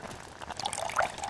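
Used oil pours out in the Deponia video game, giving a short liquid trickle and splash that is moderately loud and alone, with no talking.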